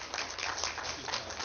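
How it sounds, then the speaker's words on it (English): An audience applauding panelists at the close of a panel discussion, a continuous even patter of many hands clapping heard on its own. "If we can have a big round of applause for our panelists."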